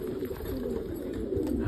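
Pigeons coo softly on a rooftop loft, a low, steady murmur against faint background hum, with no talking.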